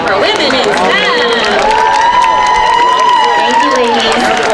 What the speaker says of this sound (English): Let's clap it up one more time for women in STEM